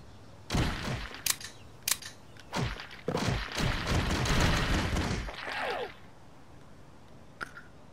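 Video game gunfire aimed at zombies: a few sharp separate shots, then a dense rapid volley for a couple of seconds, ending in a single late shot.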